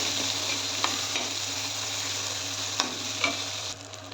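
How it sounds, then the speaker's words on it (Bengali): Chopped onions frying in oil in a wok while being stirred, a steady hiss of sizzling with a few soft scrapes of the spoon, close and continuous, no voices. "একটু নাড়িয়ে ভেজে নেব 2-3 মিনিট।"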